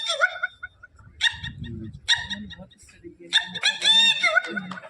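Red-wattled lapwing (titodi) calls at a bird festival in Tal Chhapar sanctuary, sharp repeated shrill cries in bursts, fairly loud and near, alternating with low-pitched human voices talking.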